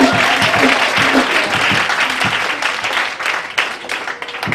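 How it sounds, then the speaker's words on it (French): Congregation in a French-speaking church service applauding vigorously, dense sustained clapping with rhythmic accents and some cheering, loud and close, thinning slightly toward the end. "Est-ce que tu peux encore l'acclamer?"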